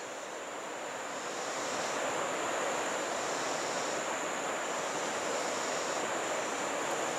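A rain-swollen creek that has overflowed its banks near a house rushes fast, giving a steady, broad wash of flowing water that holds at an even, moderately loud level throughout with no talk.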